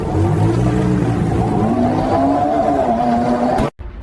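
An Emka car drives off and accelerates, its engine note rising loud and close through the gears before cutting off abruptly.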